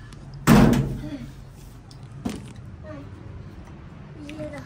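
A door is shoved open hard, giving one loud, close slam-like thud followed by a smaller knock a couple of seconds later, in a room with a voice and faint chatter around it.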